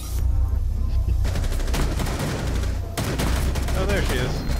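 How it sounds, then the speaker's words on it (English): Sustained rapid gunfire in Rainbow Six Siege, a Club House team deathmatch, loud and close in long bursts with a brief break midway, as a player's voice is heard over it. "I just kept shooting until I saw blood."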